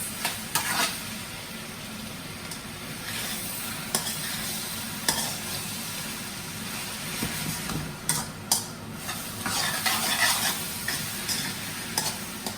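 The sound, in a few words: stir-frying shrimp and vegetable fried rice in a wok with a spatula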